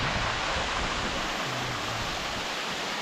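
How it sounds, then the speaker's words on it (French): A small waterfall spills into a pool in a canyon stream, a steady, dense rush of water filling the whole clip without a break, close and fairly loud, with no voices. "depuis ce joli bief avec cette cascade"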